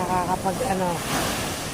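Calm sea waves wash with soft, broad surf and wind noise, while a person talks over the top for much of the moment.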